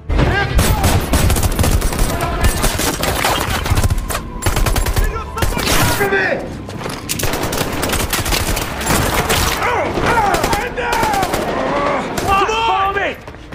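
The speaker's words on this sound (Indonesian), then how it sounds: "terjadilah baku tembak" A heavy firefight between soldiers in an action film: dense, loud gunfire with rapid bursts and volleys crackling almost nonstop, with only brief lulls, over a rumbling battle background.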